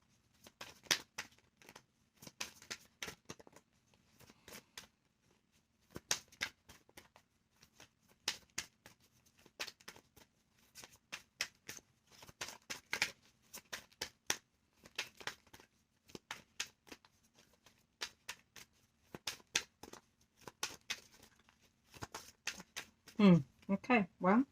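Tarot cards are shuffled by hand in bursts of quick riffling and flicking, close and crisp, with brief pauses between runs and a voice speaking near the end.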